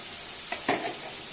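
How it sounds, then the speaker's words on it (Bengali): Cumin, ginger and garlic fry in a pan, giving a steady low hiss with two short louder bursts of crackle partway through, close by and without voices. "এখানে জিরে আদা রসুন সব কিছু আছে, ভেজে নিচ্ছি"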